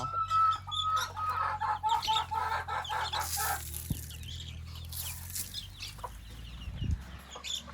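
Chickens cluck and chirp repeatedly over a low steady hum on a farm, with small high peeps from chicks mixed in; a few louder clucks stand out near the end.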